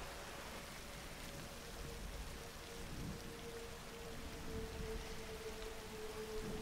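Steady rain falls in a continuous, even hiss with a faint low hum underneath and no voices.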